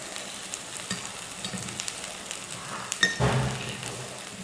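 Pancake batter sizzles steadily in a hot pan, with a short scrape and clatter near the end as it is flipped, followed by a louder, fuller sizzle.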